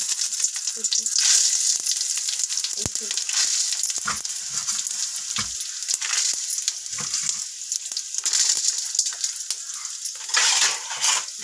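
Loud sizzling and crackling of spices tempering in hot oil for a brinjal gotsu, with occasional stirring clatter and utensil knocks against the pan.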